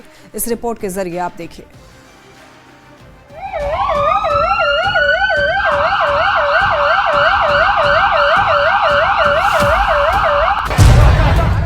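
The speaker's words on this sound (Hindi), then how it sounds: "एम्बुलेंस की आवाज कानों में गूंज रही थी।" An ambulance siren wails outside a hospital in rapid, regular up-and-down cycles, loud and close, after a voice speaks over quieter background at the start.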